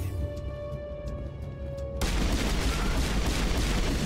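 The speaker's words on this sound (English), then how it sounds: "What are you shooting at, Wrex?" Gunfire in the video game Mass Effect Legendary Edition, a steady mechanical hum giving way abruptly to dense, continuous automatic shooting and explosions that fill the second half.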